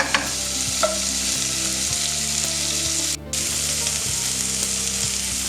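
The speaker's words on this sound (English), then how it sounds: "Now the one I was using just said to gently fry for about 5 minutes." Leeks and onions frying gently in a pan give a steady, close sizzle with occasional stirring scrapes and no voices.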